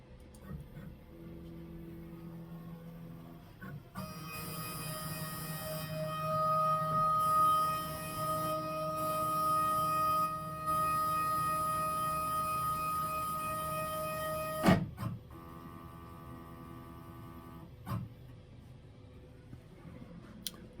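A Longmill MK2 CNC machine homing gives a steady, tonal stepper-motor whine that runs for about ten seconds, shifting pitch as the axes move. It ends in a sharp click, followed by a faint background hum.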